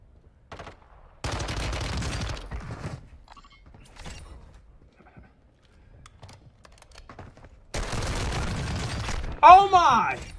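Automatic gunfire in Warzone 2 crackles in two dense bursts, one early and one near the end, with quieter clicks and shots scattered between them; a voice speaks over the final moments.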